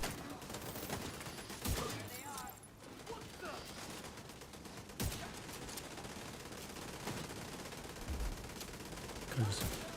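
Turret gunfire in the video game The Division 2 crackles continuously in dense bursts, with several sharper shots standing out, while a voice talks over the battle.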